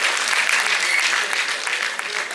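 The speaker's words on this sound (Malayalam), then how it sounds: "നല്ലൊരു കൈയടിയോടുകൂടി സ്വാഗതം ചെയ്യാം." Loud, sustained applause from an audience at a film success celebration on stage, a dense wash of clapping that holds steady for the full two seconds with no voices on top.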